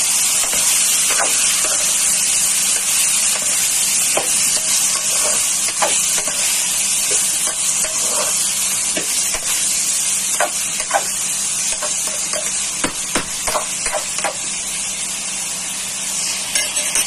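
Chicken pieces for tinola frying in a pot, giving a dense, loud, steady sizzle with scattered clicks and scrapes from stirring throughout.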